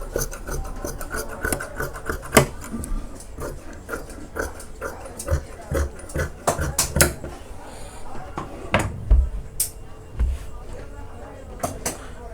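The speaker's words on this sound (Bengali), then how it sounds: "এখন আমি এটা সমান করে এইটা কাটিং করে দিচ্ছি" Scissors cut through blouse fabric in a run of close rasping snips and rubbing strokes, with a voice talking intermittently underneath.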